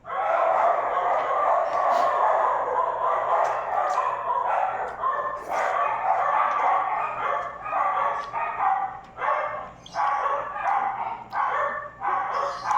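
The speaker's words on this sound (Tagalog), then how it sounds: "Ingay ng mga aso naman." Several dogs bark continuously and loudly in a rapid, overlapping chorus with no break throughout, close by at night during a late dinner at home.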